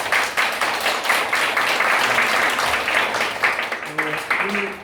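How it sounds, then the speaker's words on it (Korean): An audience at a church debate applauds in a dense, steady wash of clapping that lasts throughout. A voice speaks briefly near the end over the clapping. "두 분께 힘찬 박수 부탁드리겠습니다"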